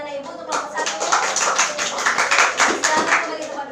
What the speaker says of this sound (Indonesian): tepuk tangannya untuk anak-anak ibu untuk kelompok 1